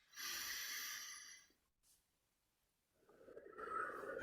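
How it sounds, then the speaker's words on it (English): A slow breath drawn in through the nose during a guided calming exercise, a soft airy hiss that is close and moderately loud for about a second and a half, then quiet before another breathy sound begins. "Breathing in slowly through the nose"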